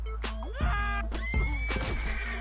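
A horse in the video game Red Dead Redemption 2 lets out loud, close whinnies, one after another, with a thud of landing hooves between them and no talk over them.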